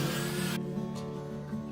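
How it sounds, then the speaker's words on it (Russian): A power sander grinds across a welded steel fireplace during finish sanding, a harsh abrasive whir that drops away abruptly partway through, leaving a lower machine hum. "После устранения недостатков чистовая шлифовка."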